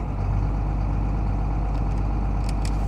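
A tow truck's engine idling close by, a loud, steady low rumble with no change in pace.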